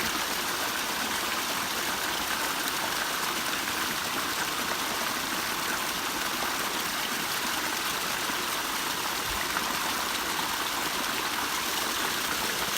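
A mountain stream rushes steadily on a hike at Pine Mountain, a dense continuous hiss of flowing water, fairly close and even throughout with no voices.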